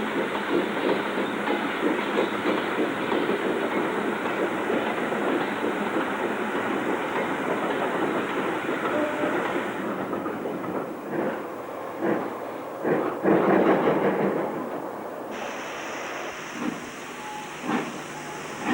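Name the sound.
steam locomotive 4922 Enville Hall departing with train, freight passing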